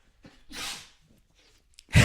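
A single sharp sneeze bursts out, preceded by a quick inhaled gasp, followed by a faint breath and another abrupt burst of noise at the end.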